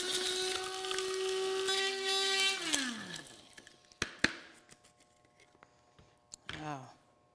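Whole spices are ground in an electric grinder: a loud, steady motorized whir runs for about three seconds, then winds down. Clicks, knocks and faint handling noises follow, with a short rattle near the end.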